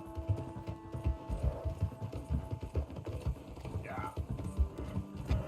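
A horse's hooves clip-clop steadily in Red Dead Redemption 2, a close and even rhythm of hoof beats that runs through the whole stretch.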